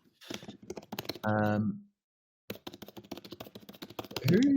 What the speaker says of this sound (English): why can I hear your keyboard?